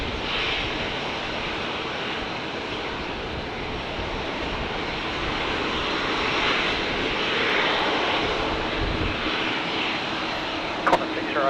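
An airliner departs Brisbane Airport on a windy day, its engines roaring loud and continuous with a slow swell in intensity, heard from nearby with faint radio chatter underneath.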